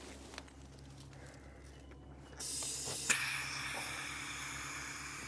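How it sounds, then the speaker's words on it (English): An air hose inflating a tyre on a 1924 Mercedes-Benz, a quiet stretch with faint clicks, then a loud steady hiss of rushing air starting partway through with a sharp click, close and alone. "So, well, first we'll pump the tyre up."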